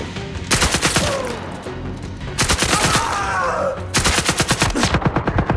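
Gunfire in the VR military shooter game Zero Caliber VR comes in loud bursts of rapid automatic shots separated by short pauses, with a faint voice underneath.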